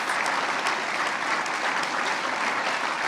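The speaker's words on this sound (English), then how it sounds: "These guys aren't clapping as heavily." Audience applause fills a room in a steady, even wash of clapping, moderately loud and without a break from start to finish.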